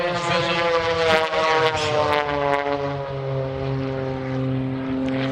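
A Pitts aerobatic biplane's propeller engine drones loudly at an air show, a steady buzzing tone with shifting pitch as it passes, heard at moderate distance with no speech.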